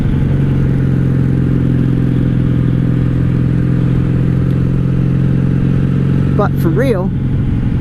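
A wrecked and rebuilt 1997 Honda Magna 750 VF750C motorcycle cruises with a steady low engine drone and wind rush throughout, heard from the rider's position while someone talks over it.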